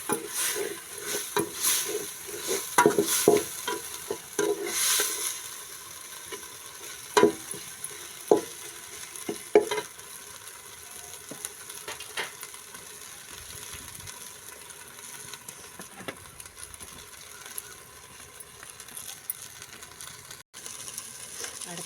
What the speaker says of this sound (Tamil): நல்லா வதக்கிட்டு நல்லா பச்சை வாசனை போகணும்.